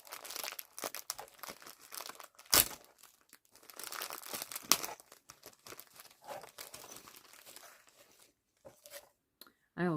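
A small crinkly plastic package is worked open up close, with dense bursts of crinkling and tearing and a few sharp snaps over about ten seconds, without talk.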